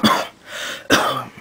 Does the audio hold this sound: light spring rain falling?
no